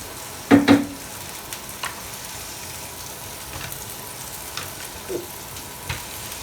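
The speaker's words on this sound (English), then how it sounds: "And keep stirring." Food stirred in a sizzling pan while cooking a T-bone steak meal: one loud double scrape near the start, then soft, sparse clinks and faint crackle over a quiet background with no talk.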